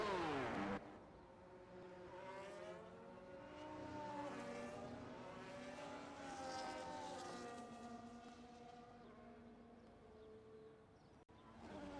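Racing cars in a video game race at Abu Dhabi roaring into the pit lane, several engine notes rising and falling in overlapping whines as cars pass, steady and fairly loud.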